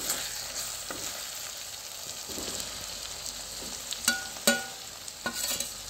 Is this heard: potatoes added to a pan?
yes